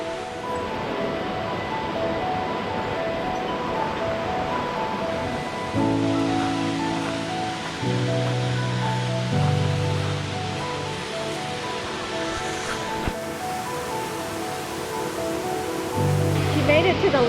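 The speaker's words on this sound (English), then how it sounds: "She made it to the largest waterfall, the tallest waterfall in Georgia, Toccoa Falls." Toccoa Falls, the tallest waterfall in Georgia, roars as a steady broadband rush of falling water, with people talking over it at times.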